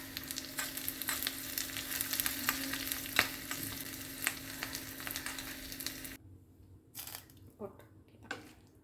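Mustard seeds splutter in hot oil for a Kerala aviyal, a dense, steady crackle and sizzle with sharp pops close by. It cuts out abruptly near the end, leaving a few isolated pops.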